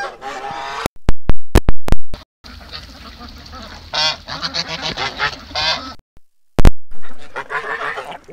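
Geese honk loudly and close by in a rush of overlapping calls, with several sharp bursts and a busy stretch of honking and quacking from mixed fowl.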